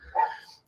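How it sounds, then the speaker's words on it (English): A dog gives a single short bark in the background, fairly quiet and muffled, with no talk over it. "sorry for the dog in the background, everyone."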